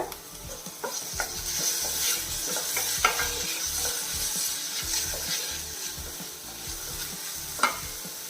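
Finely chopped tomato sautéing in a pan over medium flame, a constant close sizzle with repeated stirring scrapes and a few spoon taps on the pan.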